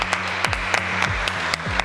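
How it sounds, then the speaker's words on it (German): A small crowd claps for a cheerleader performance in rhythmic, evenly spaced bursts, a short burst of applause heard up close. "Erstmal Applaus für den"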